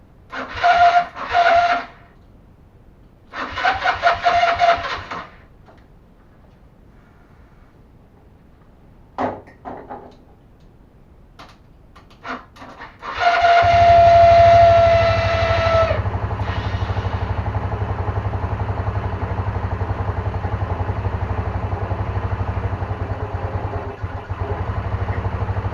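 A custom rebuilt scooter engine starts and runs steadily for about twelve seconds, preceded by several short bursts of cranking and sputtering attempts, with a near, constant idling drone and no talk.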